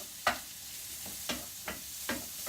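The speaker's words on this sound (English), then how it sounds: "Give it another stir." Sliced peppers and asparagus for a frittata being stirred in a sizzling pan, a steady fry hiss punctuated by about five soft spoon scrapes at an uneven rhythm.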